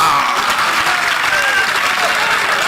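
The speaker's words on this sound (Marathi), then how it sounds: "जल्लोषात टाळ्या वाजून स्वागत करा" Sustained applause and cheering from a large crowd at an outdoor political rally in Maharashtra, a dense continuous clatter of clapping held at a steady loud level throughout.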